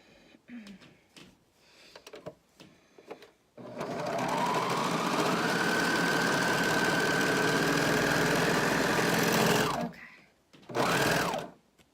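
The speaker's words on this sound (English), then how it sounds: "you're going to fold this over, and you're going to serge down" A serger sewing machine serges down folded fabric with a loud, rapid mechanical whirr that holds steady for about six seconds, then returns for a short second burst, with quiet sounds before it starts.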